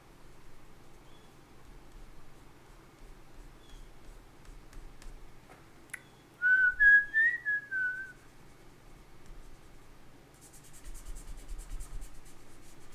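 A person whistles a short, quiet melodic phrase midway through, set against faint scratching and rubbing from writing or drawing in a hushed room.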